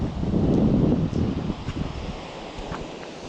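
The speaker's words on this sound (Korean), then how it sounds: "바람도 불고 파도도 치고" Wind gusts and sea waves wash against the shore on an overcast, chilly day of fishing, a continuous rough roar loudest at first and then easing, with no talk.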